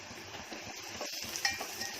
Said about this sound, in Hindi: अब इसको जरा प्याज को भून लेंगे।